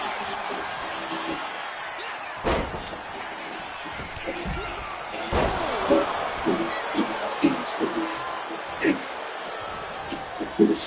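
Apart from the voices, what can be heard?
loud arena crowd in WWE 2K25 video game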